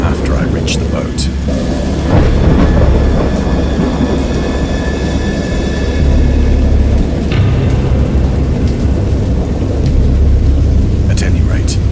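A thunderstorm sound effect of deep rumbling thunder peals and a continuous rushing roar, loud and sustained, with a voice narrating over it.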